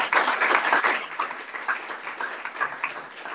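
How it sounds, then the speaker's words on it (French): An audience applauds a speaker after a talk, a thick, continuous wash of many hands clapping at close range, slowly easing off with no voices over it. "Merci beaucoup, on peut l'applaudir."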